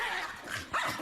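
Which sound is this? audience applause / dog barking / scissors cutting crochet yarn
dog barking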